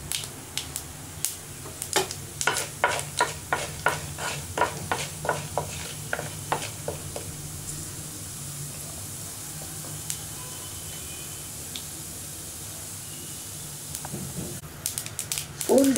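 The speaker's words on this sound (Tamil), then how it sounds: "கடலைப்பருப்பு போட்டுக்கலாம். உளுந்து கொஞ்சம் போட்டுக்கலாம்." Chana dal and urad dal drop into hot oil in a pan for a Tamil-style greens stir-fry, giving a quiet sizzle with a series of crackling pops and clicks in the first half that gradually thin out.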